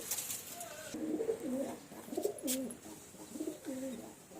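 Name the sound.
pigeons cooing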